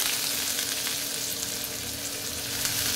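Garlic frying in hot oil with curry leaves, mustard seeds and chana dal, a dense, even, close sizzle that holds steady throughout without pauses or voices.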